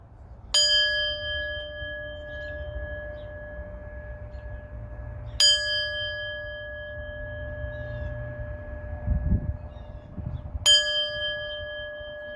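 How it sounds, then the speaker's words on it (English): A meditation bell is struck three times, about five seconds apart, each strike ringing out in a long clear shimmering tone that fades slowly. A few soft low sounds of people shifting in the room sit underneath. "I'll ring the bell and lead us into our reading."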